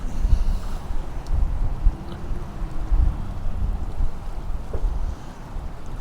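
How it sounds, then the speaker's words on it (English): Wind of about 20 knots buffeting a camera microphone while sea fishing on the River Humber on England's east coast, a loud continuous low rumble with gusty swells throughout and no talk. "There is a wind blowing. It's about 20 knots. You probably hear it on the camera"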